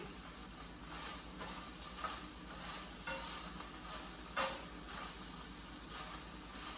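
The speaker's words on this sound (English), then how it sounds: "We're still getting a really good pop and sizzle out of this." Chicken broccoli rice casserole ingredients sizzle steadily in a pan with a soft crackling hiss, punctuated by occasional small pops; quiet and fairly close, no voices.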